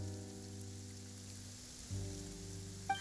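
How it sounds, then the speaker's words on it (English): Steady rain falls in the video game Genshin Impact, a soft continuous hiss over a low ambient hum, with a brief brighter chime near the end. "It's raining."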